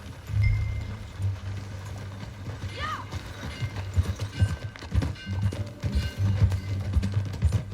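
Horse hooves clip-clop at an unhurried walking pace in the Red Dead Redemption 2 video game, faint and fairly steady, with light creaks and tack rattles in the background.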